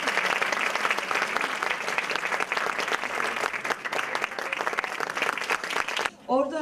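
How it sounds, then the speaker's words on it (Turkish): An audience at a cultural talk event claps steadily and loudly to welcome a guest, the applause dense and sustained before cutting off abruptly, with a voice speaking right after. "Ve alkışlarınızla Sayın İcdal Aydın'ı davet etmek istiyorum."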